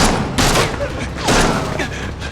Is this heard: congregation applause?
no